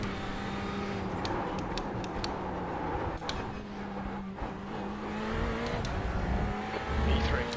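A Ferrari race car engine drones in a racing video game, a faint steady motor hum with shifting pitch and occasional sharp clicks, heard at a distance throughout.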